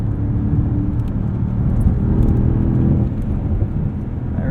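2023 Mercedes-AMG SL 63 accelerating hard, its engine giving a loud, sustained low roar and rising drone heard from the cabin, alone with no talking.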